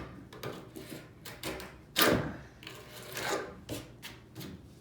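Cutting and cleaning up a surfboard repair near a rudder: a series of short, scraping, rasping strokes, close and fairly quiet, irregular in rhythm, with one sharper louder scrape midway.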